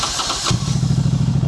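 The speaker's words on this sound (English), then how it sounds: "You just press the button and away they go." Norton Commando 961 motorcycle engine turning over on the starter button and catching, a short cranking burst that settles into a low rumbling run, close by.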